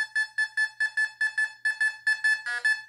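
Fisher F44 metal detector sounding on a dime in custom mode: a steady series of about a dozen short, clipped electronic beeps in quick regular rhythm, close and clear with no talk.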